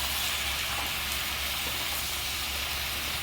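Chopped medium tomatoes sauté with onions in a pan for a paneer gravy, giving a steady, loud sizzling hiss that continues evenly throughout without pauses.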